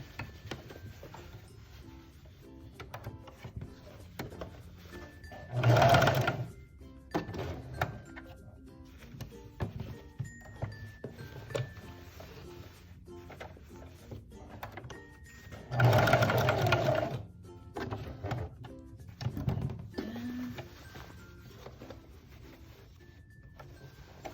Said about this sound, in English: Keep on sewing.